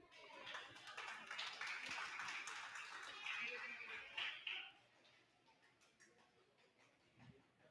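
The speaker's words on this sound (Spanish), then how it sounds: "fuerte aplauso, por favor" Faint, distant applause at a school Teachers' Day ceremony in Ecuador: a dense patter of clapping hands for about four seconds, then fading to a quiet murmuring hall.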